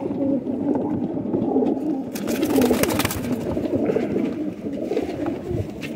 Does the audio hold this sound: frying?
no